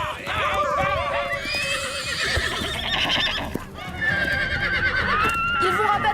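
Horses in a herd being driven toward a cliff whinny repeatedly in high, wavering calls over a steady rumble of galloping hooves, loud and close, with a voice talking over part of it.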